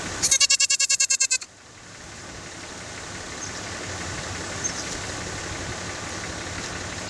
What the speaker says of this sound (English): we also have Tennessee fainting goats, which we have out in the back pasture